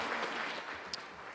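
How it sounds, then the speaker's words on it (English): Applause from a formal audience for the President at a New Year 2022 diplomats' reception, a steady dense wash of clapping throughout with no voices. "Please, a round of applause to the President."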